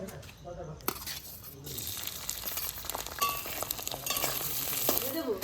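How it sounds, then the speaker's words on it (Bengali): Fish pieces dropped into hot oil for frying, with a steady close sizzle and spatter that grows louder through the second half, along with faint clinks of utensils. "তেলটা আমাদের গরম হয়ে গেছে এবার আমরা এই মাছগুলো দিয়ে"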